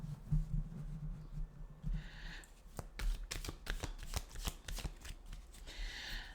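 Tarot cards are shuffled by hand up close, a run of crisp riffling bursts and soft slaps that repeat through the whole stretch, with no talk over them.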